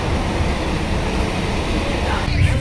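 Steady low rumble of a moving passenger train, heard from inside a nearly empty carriage early in the morning, a continuous droning roar with no talking.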